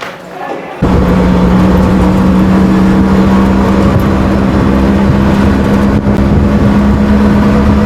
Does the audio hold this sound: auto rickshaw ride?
yes